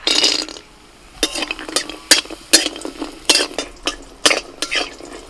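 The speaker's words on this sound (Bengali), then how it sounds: "প্রথমে কড়াইতে সর্ষের তেল দিচ্ছি কিছু ডালের বড়ি ভেজে নিচ্ছি" Dried lentil dumplings fry in mustard oil in a wok under a faint sizzle, broken by a run of sharp, irregular scrapes and clinks as a spatula stirs them.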